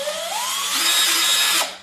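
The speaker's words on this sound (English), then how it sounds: "I was obviously on the drilling setting" A BLACK+DECKER 20V Max cordless lithium-ion drill runs alone up close, its motor whine rising in pitch as it speeds up, holding a loud steady spin, then cutting off.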